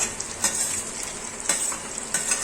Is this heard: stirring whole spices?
yes